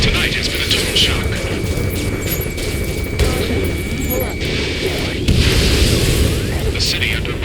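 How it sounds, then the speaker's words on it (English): Explosions and gunfire rumble through a city battle in the PC game Ace Combat 7, with deep booms and crashing blasts layered continuously beneath a voice. "Gunfire and the roar of jets echoing through the streets."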